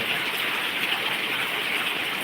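Steady rainfall hisses without pause, an even wash of drops close by. No voices.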